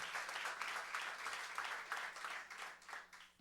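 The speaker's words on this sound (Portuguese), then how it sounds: "Uma salva de palmas a todos os presentes, participantes dessa audiência pública." Audience applause at a public hearing on a youth policy project, a steady wash of many hands clapping that holds at moderate level for several seconds before tapering off at the end.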